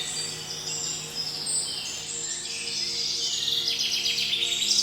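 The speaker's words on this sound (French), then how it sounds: "Le chant subtil des oiseaux." Birds sing and chirp in a forest, with several thin, high calls overlapping over a soft, calm background that grows slightly fuller toward the end, like a gentle meditation soundscape.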